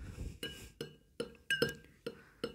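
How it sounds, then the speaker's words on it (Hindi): A spoon clinks against a glass while stirring lotion, giving about eight sharp, ringing taps in a fairly regular rhythm, close and clear with no speech. "आपने चम्मच लेके इसको ऐसे घोलना है"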